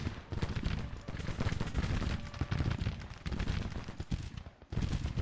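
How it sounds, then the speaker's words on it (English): Battle gunfire in the Civil War strategy game Grand Tactician, with rolling crackle of musketry and booming bursts under artillery bombardment, continuous and fairly loud with brief lulls. "Getting nailed by artillery."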